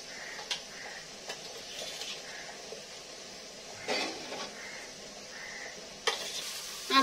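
A hot mixture frying in a pan while a metal spatula stirs it: a soft, steady sizzle broken by sharp scrapes and clinks at irregular intervals, close by with no talking.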